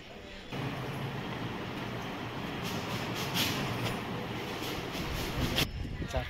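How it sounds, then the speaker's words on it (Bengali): A train moves through a Kolkata metro station as a broad, steady rumble and hiss that starts abruptly and holds at a moderate level, with brief brighter bursts near the end. "ট্রেন"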